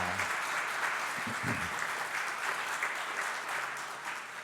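A church congregation claps for two young students during a Sunday worship service, a steady, dense round of applause from a large room that carries evenly throughout before easing slightly at the end.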